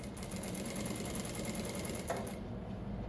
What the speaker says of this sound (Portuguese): Então posiciona ela bem no meio e você passa uma costura.